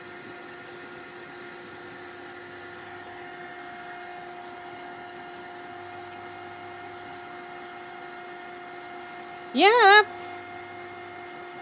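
A heat tool drying a paper doily gives a steady, faint electric whir with a constant hum throughout, and a voice briefly exclaims near the end.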